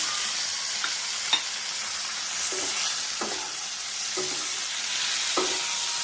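Chopped onions fry with baby corn in a pan, giving a steady close sizzle with faint scrapes as the pieces are stirred.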